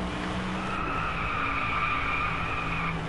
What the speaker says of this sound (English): Just going for it. Laying down that rubber.